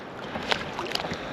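A new kayak is paddled across water, giving a couple of soft splashes and a drip over a faint wind hiss in a brief moment.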